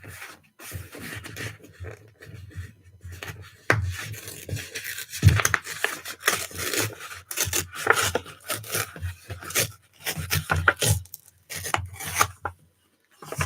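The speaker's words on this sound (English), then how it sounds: "So then I just tore it to kind of fit the same shape there." Paper is torn by hand to shape a junk journal cover, with repeated rough ripping and rubbing strokes in close, uneven bursts separated by short pauses, and no talking.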